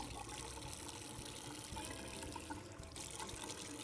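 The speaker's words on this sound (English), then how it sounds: "So after that, I can now rinse my face" Continuous running water splashes and trickles while a face is rinsed in a sink, steady and fairly close throughout with no talking.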